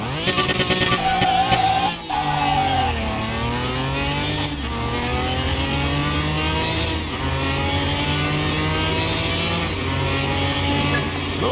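A Ferrari GT Speciale in the Car Mechanic Simulator 21 game strains in second gear, its engine held at high revs in a loud, sustained drone that wavers in pitch, with a brief lift near the start and no talk.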